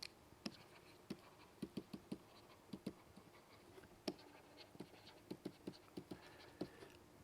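Chalk or a marker on a lecture board makes faint, irregular taps and scratches at a quiet level, with brief pauses between strokes and no voice.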